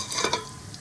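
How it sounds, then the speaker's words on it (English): Cumin seeds fry in heated oil in a pan with a soft, close sizzle and a few faint crackles, brief and quiet with no talk. "Here's the oil I have heated. I'll add about 1 teaspoon cumin seeds and 1 teaspoon shazira"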